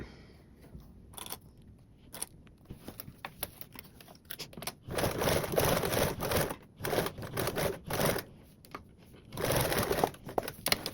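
Home sewing machine stitching a strap onto a blanket backpack in one long continuous seam, with quiet intermittent bursts of stitching and handling that grow louder in the second half, close and alone.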